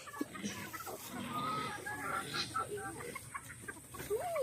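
Chickens clucking and murmuring close by on a quiet homestead, soft irregular calls with a few sharper squawks, faint background sound throughout.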